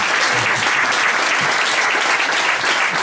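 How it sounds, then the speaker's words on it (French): An audience at a France–Algeria forum claps for a woman who helped organise the event, a dense, even burst of applause throughout with no talk over it. "je pense qu'on peut l'applaudir même si elle ne veut pas intervenir"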